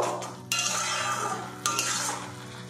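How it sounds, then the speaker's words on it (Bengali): Beetroot being stirred in a pan, two distinct scraping strokes of a utensil against the metal over a low, soft sizzle. "একটু এইভাবে অনবরত নাড়াচাড়া করব। বিটের মধ্যে যে জলটা আছে ওটা ভালো করে শুকিয়ে নেব।"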